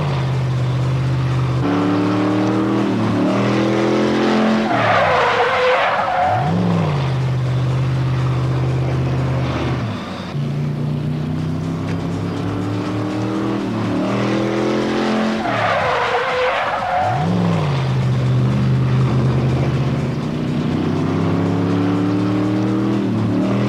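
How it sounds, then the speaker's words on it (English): A stunt car at a Chevy Thunder Thrill Show skids and snaps around in reverse, its engine revving hard under long tire squeals, twice in a repeating pattern, loud and close. "you actually just make a quick turn with the steering wheel to snap the car around"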